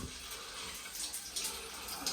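Water draining out of a TESY/Eldom electric water heater into a bathroom during gasket and heating element replacement, a steady close hiss of running water with splashy bright texture and no talk.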